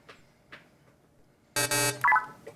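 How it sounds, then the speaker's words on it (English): A game-ending buzzer sounds at a televised high school quiz competition, a loud harsh electronic blast lasting about half a second after soft background noises, followed by a short bright tone. "That is going to be the game-ending buzzer."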